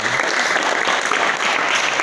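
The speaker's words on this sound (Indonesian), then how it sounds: "tepuk tangan untuk kita semua" Students at SMK Negeri 1 Gombong applaud in a vocational automotive classroom, a loud, continuous, even roar of many hands clapping from start to end.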